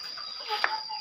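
Village chickens clucking close by, one short sharp cluck standing out over a steady high hiss of background insects.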